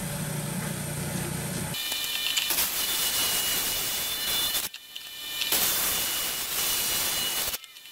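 A saw cuts through red calcite rock, a loud continuous grinding roar that drops out briefly a couple of times before resuming, close up with no voices.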